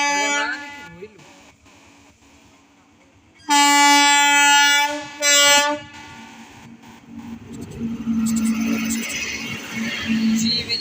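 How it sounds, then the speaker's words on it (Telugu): A train slowly approaches on the tracks, sounding two long, loud horn blasts, followed by a swelling rumble of wheels as it draws near. "కదులుతున్న రైలు"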